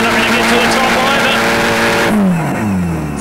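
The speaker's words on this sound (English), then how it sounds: "Malcolm Cleavey now and Glenn Gooden in their Suzuki home-built Nissan SR20 powered COPS sponsored truck" Nissan SR20-powered home-built Suzuki 4x4 race truck at a Suzuki Cup off-road event, engine loud and close, revving high then pitch dropping sharply as it backs off, with commentary over the top.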